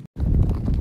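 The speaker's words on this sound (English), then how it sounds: "he's a really nice horse" A horse walks outdoors, its hooves clip-clopping in a close, clear rhythm after a brief silent gap, with light wind noise behind.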